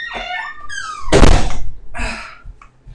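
A few heavy thuds land on a wooden door, one loud knock followed by two softer ones, close and dry, with a high dog-like whine just before them.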